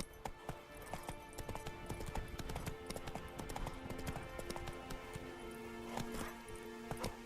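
Hoofbeats of Roach, a horse in The Witcher 3 video game, galloping in a steady rapid clip-clop rhythm, close and continuous, layered with other game sounds and clatter.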